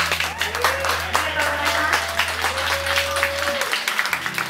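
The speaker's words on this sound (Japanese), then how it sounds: "ご拍手を。" Audience applause after a song at an acoustic live show, steady clapping throughout with a voice talking over it and a lingering tone underneath.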